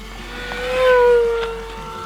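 An E-flite V1200 RC plane zooms past below full throttle, its electric motor whine swelling as it approaches and bending downward in pitch as it fades away, one smooth pass lasting about two seconds.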